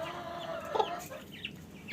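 Domestic hens in a backyard poultry setup cluck softly, with one brief louder cluck standing out amid a busy background of bird sounds.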